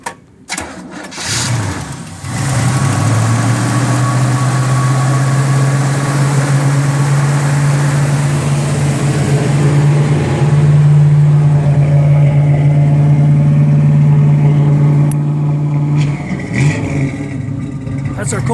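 A 1966 Chevy Nova SS cranks briefly and fires on a cold start, settling into a loud, steady low rumbling idle close by that holds for over ten seconds before easing off.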